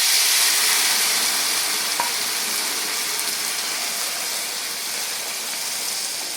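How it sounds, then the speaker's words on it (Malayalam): Cooked carrot and horse gram stirred into chillies frying in oil, giving a steady, fairly loud sizzle with soft stirring scrapes throughout and no voices. "അപ്പോൾ അതിലേക്ക് നമ്മൾ വേവിച്ച് വെച്ച ക്യാരറ്റും മുതിരയും ചേർത്ത് കൊടുക്കും."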